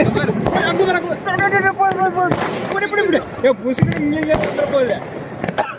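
New Year fireworks bursting repeatedly, sharp pops and bangs scattered throughout, heard under voices talking.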